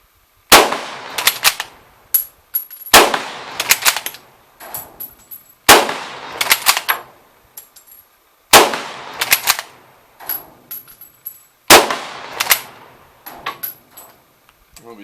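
A Czech Vz24 Mauser rifle firing, six loud, sharp, close shots a couple of seconds apart, each followed by the clack and rattle of the bolt being worked.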